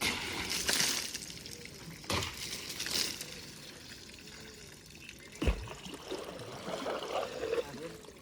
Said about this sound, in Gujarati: અમે ગાડી ધોઈએ છીએ.